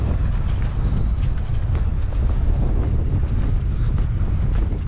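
Steady wind buffeting on a tidal shore on a blustery day, a constant low roaring rumble across the microphone with no break.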